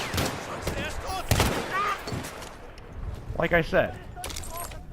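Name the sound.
sidearm gunfire in a war video game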